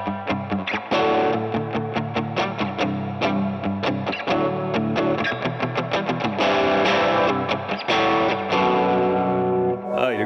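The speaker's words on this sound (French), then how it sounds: "c'est là où la reverb va sonner comme une autre guitare" An electric guitar plays a palm-muted indie rock riff with bright highs through a hall reverb and effects pedals, tight rhythmic chugs ringing into a spacious wash, loud and close with no talking.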